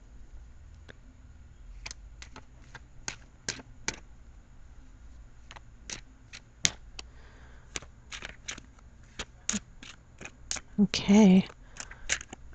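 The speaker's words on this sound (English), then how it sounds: "I am going to cut the cards now" Tarot cards being shuffled and cut, a scattered series of sharp, close card snaps and taps, ending in a louder shuffling burst, with a brief spoken word.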